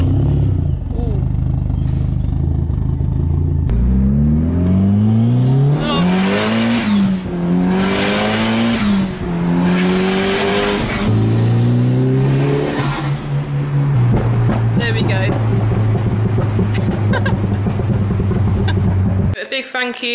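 Fiat Punto Abarth race car engine revving up and down in rising and falling sweeps, loud and close, then settling to a steady high idle before cutting off abruptly.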